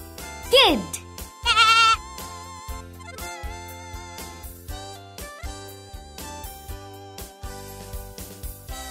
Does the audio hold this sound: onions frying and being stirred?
no